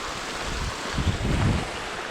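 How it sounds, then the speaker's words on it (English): Bridal Veil Falls at Kagawong, a steady rushing wash of falling water with a brief low swell of turbulence midway, heard from a moderate distance. "Look at that, another waterfall."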